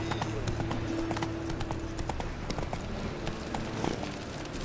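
Roach, the horse in The Witcher 3, gallops with a rapid, steady drumming of hooves, loud and close, blended with dense game ambience, wind and background music, with brief voices.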